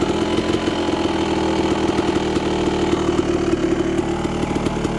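Yamaha YZ dirt bike engine idling steadily on race gas, a continuous close buzzing rumble with a slight even flutter and no throttle changes.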